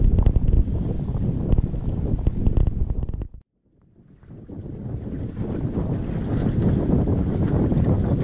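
A sailboat sails the Sound of Ashuna off Scotland as the wind fills in: steady, loud wind roar and rushing water, broken by a brief near-silent dropout before the roar builds back.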